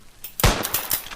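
A single loud, sharp rifle shot from a Blaser R8 in a VR hunting game, a sudden broadband crack followed by a brief rumbling tail, heard on its own with no talking.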